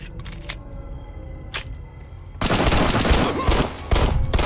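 Pistol shots crack out in the video game Fallout New Vegas, a couple of sharp early shots followed by a dense loud burst of gunfire and explosions.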